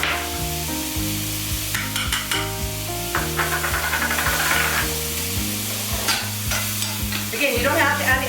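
Taco meat and onions frying in a pan, for a taco rollup, give off a steady loud sizzle. Repeated scraping and stirring strokes run through it and no one speaks.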